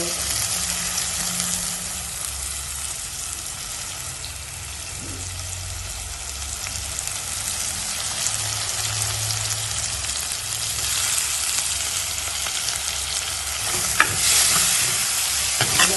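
Curry leaves fry and get stirred in hot oil for a Jaffna fish curry, a steady close sizzle with occasional scrape of the spoon in the pan and a sharper clink near the end.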